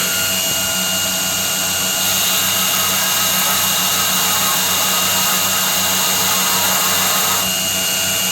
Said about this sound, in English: Does it grind? Yeah, it grinds here.